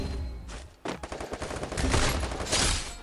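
Rapid bursts of gunfire from a shooting video game crackle close and loud, a short pause giving way to dense, continuous volleys that keep going to the end.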